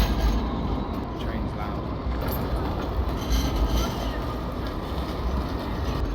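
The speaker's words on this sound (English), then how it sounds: "the train's loud." A loud train runs steadily on its rails in Australia, a continuous heavy rumble and rattle that fills the whole stretch without a break, with faint voices under it.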